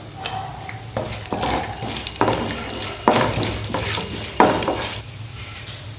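Mustard seeds crackle in hot oil, followed by chana dal and urad dal, for a South Indian rice tempering. A steady sizzle runs throughout, broken by several sharp bursts of spatter and stirring about a second apart, with no talking.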